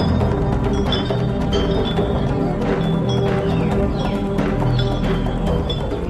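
Horses clip-clop in a steady procession alongside elephants, oxen and marching soldiers, a dense continuous rumble of hooves and movement with faint high clinks scattered throughout.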